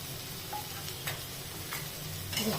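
Tomatoes sauté in a pan, giving a low steady sizzle broken by a few light scraping stirs and small ticking clicks, close and fairly quiet.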